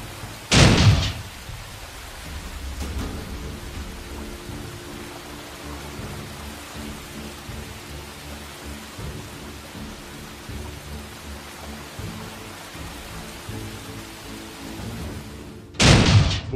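Steady rain hisses throughout in a Batman video game, with a low rumbling undertone and two loud bursts at the start and end; no one speaks.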